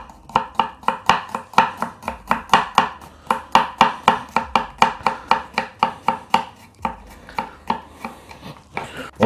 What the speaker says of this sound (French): on va le ciseler le plus fin possible